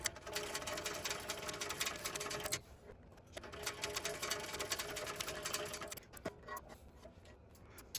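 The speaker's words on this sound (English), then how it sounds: "I'm going to edge stitch it at the typical 1/8 of an inch seam allowance" A sewing machine edge stitches a tote bag seam at an eighth-inch allowance, its steady fast rattle running continuously with a short pause near the three-second mark and a lighter stretch toward the end.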